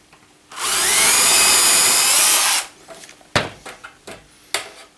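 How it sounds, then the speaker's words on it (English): A power drill whirs steadily for about two seconds, drilling index holes in a mini office workbench, loud and close, then stops, followed by a few scattered clicks and knocks. "So let's drill these two holes."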